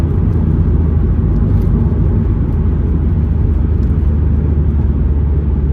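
Steady, loud low-frequency rumble of a car cruising along the road on a sunny drive, with a constant engine and road drone heard from inside the cabin and no speech.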